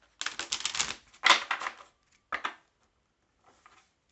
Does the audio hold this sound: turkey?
no